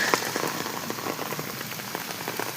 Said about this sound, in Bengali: ওই দেখো সেই বৃষ্টি।